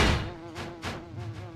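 Thin, steady mosquito-like buzz from a creature in the video game Beyond Good and Evil, a sustained whine with a few soft pulses, close and fairly quiet over a short stretch.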